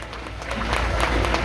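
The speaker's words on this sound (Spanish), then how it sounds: "Que se escuche fuerte el aplauso" A pageant crowd at a Miss Teen Mexico contest applauds the winning state of Morelos, a brief, dense burst of clapping that swells slightly louder toward the end.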